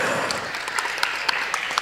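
Audience applause for a DJ at a youth competition event, a steady broadband wash of clapping with scattered sharper individual claps, moderately loud and continuous.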